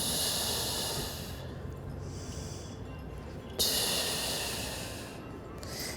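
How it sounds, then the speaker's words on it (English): During a senior yoga stretch, slow deep breaths sound close and airy: a long hissing inhale, a pause, then a sudden stronger exhale rushing out. "Got 3 more times, 3 more breaths."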